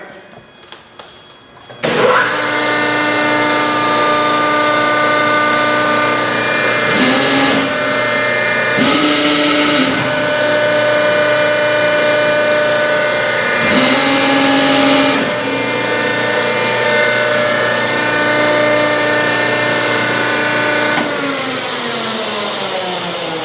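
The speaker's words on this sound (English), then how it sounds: "Big Cincinnati press brake, you've probably seen those. We'll just run it up and down real quick for you." A big Cincinnati press brake running through a quick stroke, its steady loud hydraulic motor hum and whine continuing throughout, with brief clunks and pitch shifts as the ram moves up and down.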